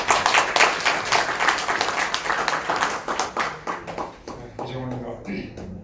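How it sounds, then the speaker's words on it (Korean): Audience at a live-broadcast talk in a Seoul office-building hall applauds a guest speaker, steady dense clapping that thins toward the end as a few scattered claps and a voice begin. "큰 박수로 맞이해 주시기 바랍니다."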